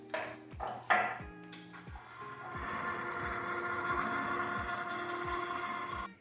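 Sourdough starter and milk being whisked slowly together in a bowl for cinnamon roll dough, heard as a string of regular clinking, scraping strokes of the whisk against the bowl at close range, without speech.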